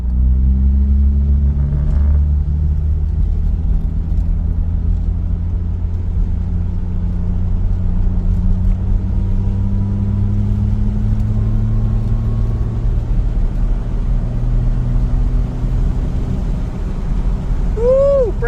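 A vintage Dodge with Fluid Drive transmission rumbles along steadily, its engine note rising and easing as it shifts gears while driving, heard from inside the car throughout.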